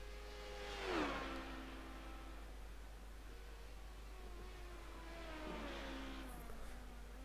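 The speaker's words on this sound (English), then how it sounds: "very, very nice sounding LMP2s powered by some very, very nice Honda engines" Honda-powered HPD LMP2 prototype race cars in a sim racing series: a faint engine sweeps past with a falling pitch early on, followed later by another quieter car rising and fading, all under a steady background hiss.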